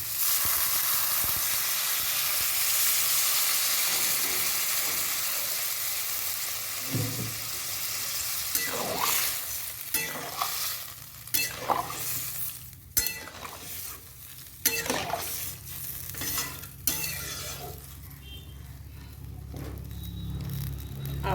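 Cauliflower and potato masala sizzles loudly in hot oil, then water is poured in and a burst of steam hissing and stirring scrapes follow, settling into a gentler simmering bubble.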